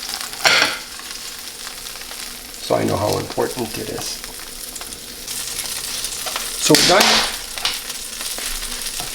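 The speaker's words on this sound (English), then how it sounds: "we're done frying all of the baccalà" Salted cod (baccalà) frying in oil for a Livornese stew, a steady close sizzle with louder crackling bursts as pieces are stirred, while a person talks briefly.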